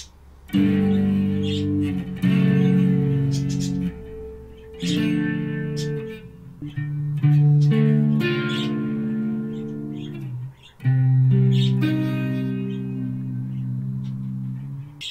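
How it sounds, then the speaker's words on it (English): An electric guitar through a Behringer V-Amp Pro flanger preset strums sustained chords with a sweeping, swooshing flanger effect, each chord ringing for a second or two before the next, with no talking. "Flanger."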